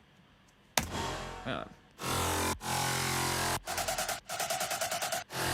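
Synths in Ableton ducked by a VolumeShaper sidechain, loud sustained chords that break into a rhythmic pumping pattern of quick volume dips, with a brief spoken word near the start.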